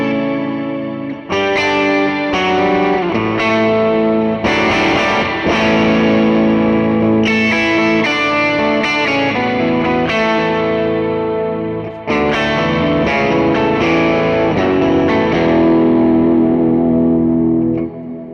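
Electric guitar run through a POG octave pedal model on a Quad Cortex, full organ-like chords with added octave shimmer, strummed and sustained for about eighteen seconds, loud, close and continuous with chorus-like modulation and reverb tails.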